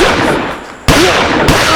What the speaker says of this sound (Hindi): ये तो गोलियों की आवाज है ना?